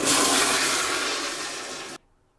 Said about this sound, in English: I'm going to turn on the valve again and flush it again.